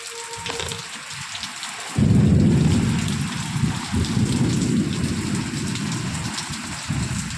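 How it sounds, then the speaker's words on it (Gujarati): Steady heavy rain pours down, a dense close hiss that swells suddenly after a quieter start and holds for several seconds, with low rumbling underneath. "એક બાજુ વરસાદ ચાલુ છે"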